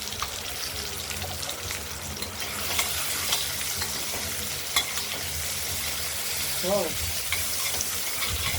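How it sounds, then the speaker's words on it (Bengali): Chunks of gathi kochu taro fry in hot oil in a wok, giving a steady close sizzle with scraping stir strokes and light clatter throughout, without any talk. "কচুগুলো ভেজে নেই, দেখতে থাকুন।"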